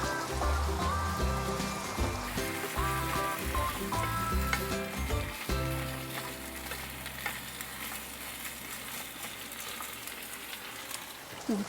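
Mung beans sizzle and crackle sautéing in a pan while a utensil stirs and scrapes, the frying gradually easing toward the end.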